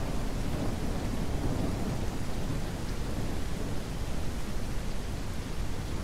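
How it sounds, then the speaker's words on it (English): Rain pours down in a steady, dense hiss with a low rumbling undertone of thunder in the Ranch Simulator game, continuous and fairly loud throughout with no voices. "Still raining."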